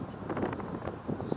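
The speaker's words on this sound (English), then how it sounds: "a little windy, wind's coming out of the southeast" Wind from the southeast buffets a microphone outdoors near a Hiteck X 300 Weekender, a low, gusty rumble rising and falling over a short stretch.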